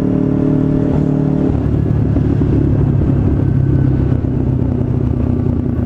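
Kawasaki Ninja 250 carbureted motorcycle with a long header exhaust, a loud, close, rough engine drone with a steady rumble that shifts tone about a second and a half in, continuous throughout.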